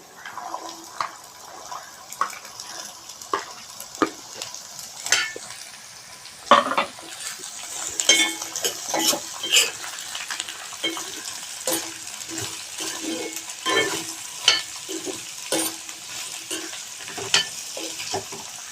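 Vegetables fry with onion and curry leaves, a soft sizzle running underneath while a spoon clacks and scrapes against the pan in frequent sharp knocks.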